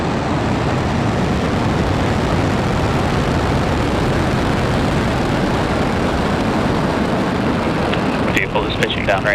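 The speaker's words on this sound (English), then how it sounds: "Falcon 9 has successfully lifted off from Slick 40 at Cape Canaveral Space Force Station in Florida." A SpaceX Falcon 9 rocket carrying a Thuraya satellite lifts off from Space Launch Complex 40 at Cape Canaveral Space Force Station in Florida, its loud, steady roar and rumble continuous throughout with a few faint clicks near the end.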